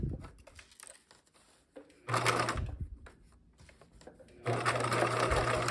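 A sewing machine topstitches backpack straps in two bursts of rapid, even stitching, the second longer and continuing to the end, after a quieter stretch of faint handling and soft speech.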